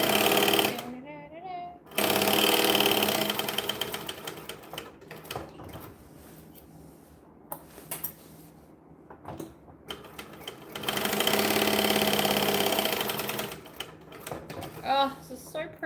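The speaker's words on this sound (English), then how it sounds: "Or I'll just sew this on first." Sewing machine stitching fabric for a bag, rapid mechanical chattering in several long bursts with pauses between, close up, while someone talks over parts of it.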